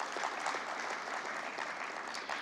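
An audience at an economic conference inaugural session gives a round of applause, dense even clapping sustained for a couple of seconds, heard from across the hall.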